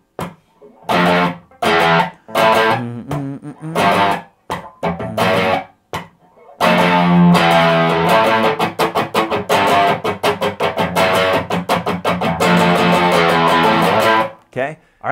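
Distorted electric guitar plays a song in loud, choppy power chords with short gaps, then settles into a longer, steady rhythmic stretch.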